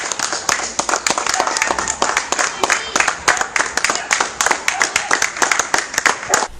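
Neighbors in a residential neighborhood clap steadily in dense applause to welcome a nurse, with a few voices mixed in underneath.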